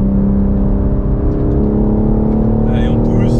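A four-wheel-drive car accelerates on dry ground, its engine a loud, steady close drone that holds a constant pitch throughout.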